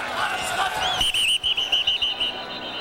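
A referee's whistle shrills at a 1999 Raiders–Cowboys NFL preseason football game, one sustained blast rising over a murmuring stadium crowd and fading into broadcast ambience.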